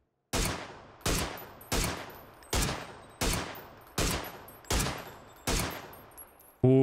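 Eight evenly spaced, sharp SLR rifle shots in PUBG, each one loud with a decaying tail, fired in a steady semi-automatic rhythm with no talk over them.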